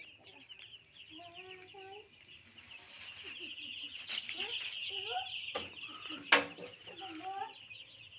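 Chicks on a small poultry farm give repeated soft clucks and short chirping calls, scattered and fairly faint over quiet farmyard background noise, with one sharper sound partway through.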